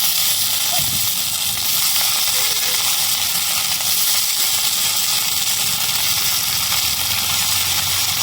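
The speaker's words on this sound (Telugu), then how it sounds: "బీరకాయలను బాగా కడిగి పచ్చిమిరపకాయల్లో వేసుకోవాలి" Washed ridge gourd pieces hit hot oil with frying green chillies, giving a steady, loud sizzling hiss that runs unbroken throughout.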